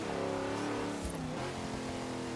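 Hoonigan Napalm Nova drift car in Forza Horizon 3 roaring downhill, engine revving hard with a brief tire squeal, loud and continuous.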